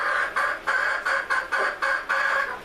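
Half-Sumatra hen calling in a steady series of about eight loud, close, repeated clucking squawks, evenly spaced with no talking.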